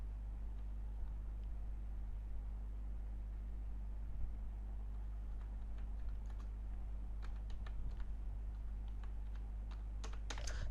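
Quiet tapping on a computer keyboard as targeting text is typed, scattered soft keystrokes that cluster in quick bursts toward the end, over a steady low hum.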